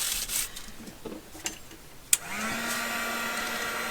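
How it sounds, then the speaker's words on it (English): Heat gun blowing hot air over toilet paper on a craft page, a steady close whoosh of airflow that strengthens after a sharp click about halfway through. "I need to go again with the heat gun."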